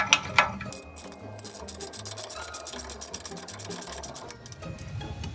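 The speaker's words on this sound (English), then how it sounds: "just get them tightened all the way down" Brake caliper bolts being tightened all the way down with a ratcheting tool during a caliper and rotor replacement, a rapid, steady mechanical clicking and whirring near the microphone, with a couple of sharp metallic clinks at the start.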